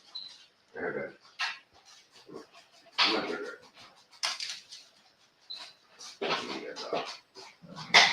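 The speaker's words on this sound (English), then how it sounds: "Is there a dog out there?" A dog whimpers and gives short barks and yips in bursts, close by, interleaved with a person speaking softly to it.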